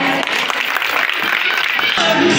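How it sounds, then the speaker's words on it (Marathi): Loud, steady applause from a crowd of women at a Women's Day celebration in Kopar village, Bhiwandi taluka, filling the whole moment with dense clapping and some voices mixed in. "टाळ्या"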